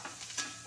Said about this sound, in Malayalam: ഈ ചെറിയ ഉള്ളി ഇതിനകത്തിട്ട് വഴറ്റിയെടുക്കാം.